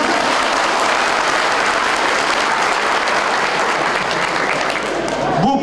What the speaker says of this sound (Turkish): Kendisine büyük bir alkış istiyorum.